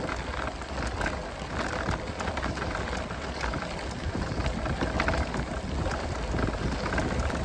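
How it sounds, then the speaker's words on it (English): Steady rain hisses down on the Katy Trail in a dense, continuous patter, with no voices and an even, unbroken wash of drops on surfaces. "And here it's really raining."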